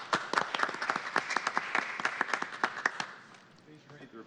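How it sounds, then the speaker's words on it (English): Applause breaks out in a city council chamber in Seattle after a bill passes, a few dozen hands clapping in quick irregular bursts for about three seconds before fading into quiet room tone. "Clap on that one."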